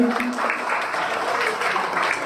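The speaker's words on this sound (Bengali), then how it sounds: "ওর জন্য একটা হাততালি" An audience claps for a student honoured at a school ranking ceremony for math and English results, with a short, moderately loud burst of applause in a hall and voices faintly beneath.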